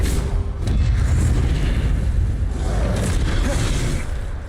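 A disarming spell cast in the video game Hogwarts Legacy lands as a loud, deep boom that swells into a sustained rumbling roar lasting several seconds and fading slowly, close and dominant with no talking.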